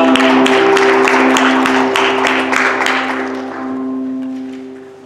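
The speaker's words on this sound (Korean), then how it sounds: "우리 살아계신 하나님 앞에 큰 감사와 영광의 박수를 올려드리도록 하겠습니다" A congregation applauding at the San Diego Onnuri Church all-church retreat: loud, dense clapping over sustained organ-like music tones, gradually fading away.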